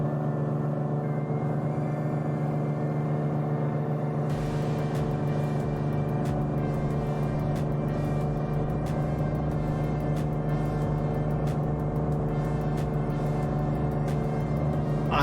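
Steady, loud piston aircraft engine drone in Microsoft Flight Simulator, running at reduced RPM on a flight over northern Michigan toward Oshkosh, with a constant low hum and strong harmonic tones throughout and no talk.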